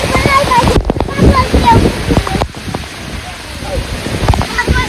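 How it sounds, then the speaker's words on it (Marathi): Heavy rain and rushing water outdoors at a shepherds' camp, a loud broad wash with gusty wind buffeting the microphone and a voice talking over it. "बघा मित्रांनो पाऊस आणि हे काय राव पाणी बघा पाणी."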